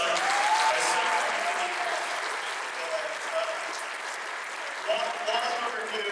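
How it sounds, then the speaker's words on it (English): A large audience applauds at a Back to the Future 40th anniversary cast reunion panel, dense sustained clapping filling the hall with faint voices and whoops mixed in. "Charlie, let's just get an applause for our stunt"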